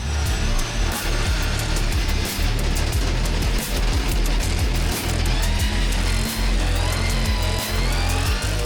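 A rallycross race car at its first race roars around the track, its engine revving hard with continuous loud acceleration and rapid gear-change surges, close to the microphone and with no voices.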